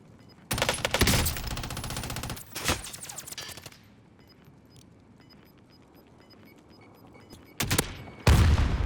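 Gunfire in Call of Duty Cold War Warzone: bursts of rapid automatic fire crackle loudly, with a quieter stretch of distant ambience and faint taps in between, then another sharp burst at the end, with no talk.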